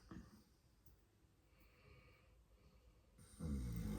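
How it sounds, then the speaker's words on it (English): Soft, slow snoring breaths close by, quiet at first, then a louder rasping snore near the end. "Oh, that's a snoring."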